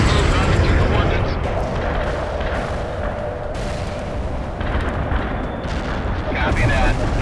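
Heavy artillery barrage in the World in Conflict video game, with dense rumbling blasts and booms rolling continuously under voices talking throughout.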